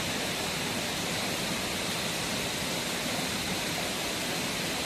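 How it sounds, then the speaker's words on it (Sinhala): The Maha Oya river in Sri Lanka rushes past in a dense, steady roar of flowing water, constant and unbroken throughout, with no voices. "මේ තියෙන මහ ඔය ගඟ"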